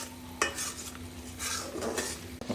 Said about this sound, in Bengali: কিছুক্ষণ কষে নিয়েছি আমি।